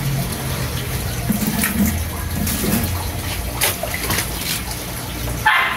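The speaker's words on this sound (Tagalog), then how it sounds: "Ngayon, lagyan ko muna ng konting tubig dahil para makuskus na." Water pours into an aquarium tank that is about to be scrubbed, a steady splashing rush filling the clip under faint low background noise, with a brief sharp clatter near the end.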